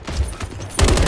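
Gunfire in Modern Warfare 3 during a Kill Confirmed match on Skidrow: scattered shots, then a loud rapid burst near the end.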